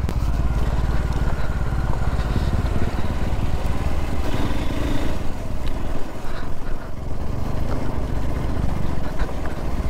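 A Hero Xpulse motorcycle descends an off-road trail from a temple on engine braking, its low, steady engine rumble continuous and close throughout, with rough broadband road and wind noise.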